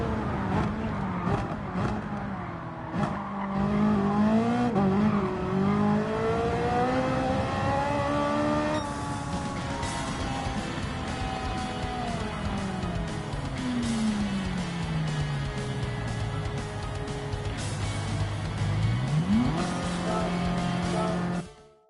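A race car engine in Gran Turismo 7 at Monza drives loudly and continuously, revving up through the gears, dropping pitch under braking, then climbing again, with tire noise underneath.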